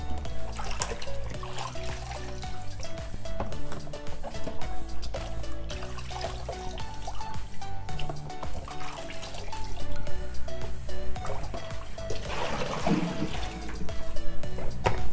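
Catfish being rinsed in water for a Congolese liboke dish, with steady trickling, splashing and dripping close by, continuing throughout and swelling louder toward the end.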